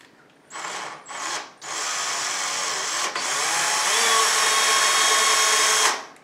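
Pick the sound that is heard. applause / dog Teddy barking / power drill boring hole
power drill boring hole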